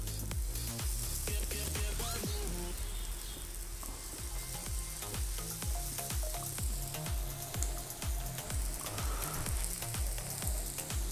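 Chicken seekh kebabs fry in hot oil over a high flame, a dense, steady sizzle and crackle running unbroken at close range with a faint rhythmic low thumping underneath; no one speaks.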